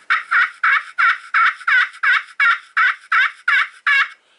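A pot turkey call worked with a striker gives about a dozen loud, evenly spaced yelps in a quick steady rhythm, each a raspy clucking note close to the listener, with no talking.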